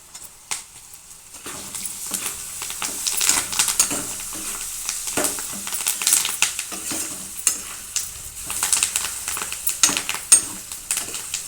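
Curry leaves roasting in hot oil for a Rayalaseema spiced puffed-rice dish crackle and sizzle, starting quiet then rising into sharp popping bursts and a steady close frying hiss.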